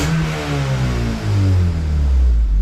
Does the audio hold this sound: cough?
no